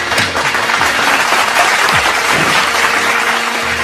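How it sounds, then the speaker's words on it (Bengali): Audience at a Bengali folk and baul music concert breaks into steady applause, a dense wash of clapping that fills the space, with music faintly underneath. "সবাই একটা করতালি।"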